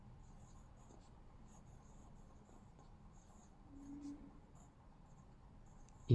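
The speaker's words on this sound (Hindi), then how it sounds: "तो पहला जो इसका लेटर बड़ा लिखेंगे माई" Pencil writing on a school worksheet, a soft continuous scratching in the lower range that runs steadily through the clip at low volume, with a slightly louder stroke near the end.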